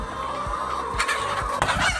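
Chickens on a layer poultry farm in Liberia cluck in a steady chorus with several close, sharper squawks over a constant background of bird noise.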